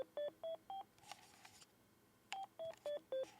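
Budget game controller playing a short electronic pairing tune: four clear, evenly spaced beep tones, a pause with faint rustling, then four more beeps, close and fairly quiet.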